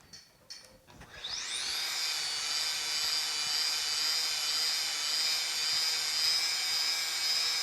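A polisher with a finer pad buffs the fender of a deer-damaged truck, starting after a few clicks and then spinning up to a steady, close, high whine that holds without a break.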